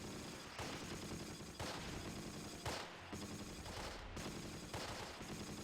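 Bursts of machine-gun fire from a WWII tactical wargame, Close Combat: Wacht Am Rhein, set at Losheim, with repeated rattling volleys in steady clusters roughly every second, loud and continuous throughout with no talk.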